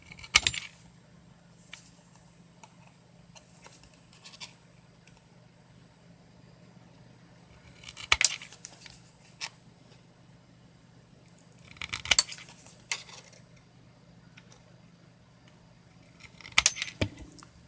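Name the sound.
tin snips cutting corners off tin-plated steel sheet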